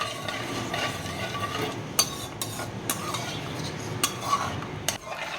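Sugar heats in a pan for ravva laddu while a spoon stirs it, giving soft scraping with a few sharp clinks of metal against the pan over a low hiss.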